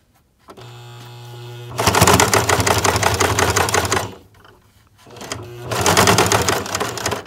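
A sewing machine stitches slowly over the thick pleats of a fabric face mask, running in two loud motor bursts with a pause between, preceded by a softer whirring start.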